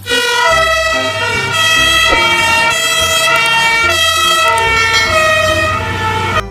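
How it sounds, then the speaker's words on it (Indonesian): A loud electronic toy fire truck ladder siren wails continuously with bright, layered tones, running steadily throughout without a break. "Wow, truk tangga pemadam kebakaran"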